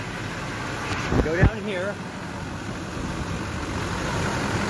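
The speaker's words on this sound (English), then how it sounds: "Okay, now it's running okay. The truck's running fine." A Duramax LLY diesel truck engine idles steadily with a low, even rumble throughout, while someone speaks briefly over it near the start.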